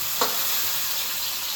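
Dal being stirred with a spoon in a pot at home, a short scrape near the start followed by a steady broadband sizzle-like hiss, with no talking.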